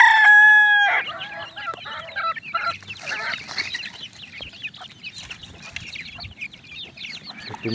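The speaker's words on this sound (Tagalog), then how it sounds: "nabigyan na po natin ng patuka at yung mga alagang sisiw" Pet chicks and chickens at feeding time as grain feed is scattered: a rooster crows loudly at the start, then a busy chorus of close chirping and clucking continues throughout.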